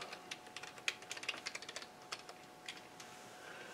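Password being typed on a computer keyboard, quiet close key taps in a quick irregular run, then a few scattered presses.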